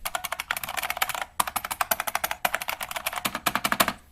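Steady fast typing on a Unicomp EnduraPro buckling spring keyboard of the Model M type, loud clacky keystrokes in rapid bursts, broken by two brief pauses.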